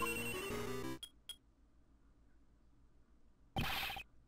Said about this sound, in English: That sound is her cell phone.